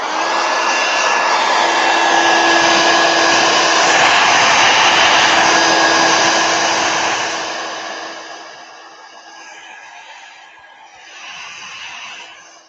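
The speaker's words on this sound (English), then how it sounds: "I'm going to hit this with a heat gun real quick" A heat gun blows over a watercolor painting to dry the paint, a loud, steady whooshing roar with a whining tone held close for about eight seconds, then dropping to a quieter fluctuating blow as it moves away.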